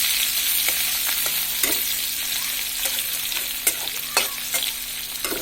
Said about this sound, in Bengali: এখন যে শুটকিটা আছে সেটাও এর মধ্যে দিয়ে দিচ্ছি। হালকা একটু ভেজে তারপরে পানি দিয়ে দিব।